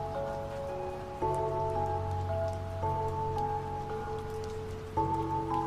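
Steady rain falls during a countryside walk in rural Korea, a continuous soft patter with a low background rumble and faint tonal hum, level and unbroken throughout with no voices.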